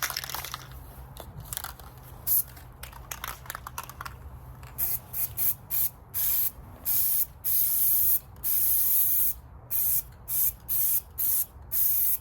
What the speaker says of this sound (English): we're using this Rust-Oleum low odor indoor-outdoor durability